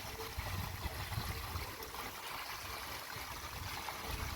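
Steady rushing water runs without pause through a farm field, a broad continuous trickling and gurgling wash that stays even in loudness throughout.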